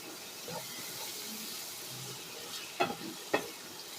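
Spice masala for a restaurant-style chicken leg curry frying in oil in a pan, a steady soft sizzle with a few sharp spatula scrapes and clinks near the end, close and without speech.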